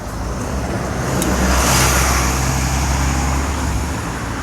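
A coach passes on a countryside road in North Wales, a loud, close engine roar that swells to a peak and then eases as it goes by, with no talk.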